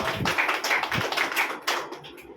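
A small audience at a home meeting claps hands, a quick burst of scattered, overlapping claps close by that thins out and fades within a couple of seconds.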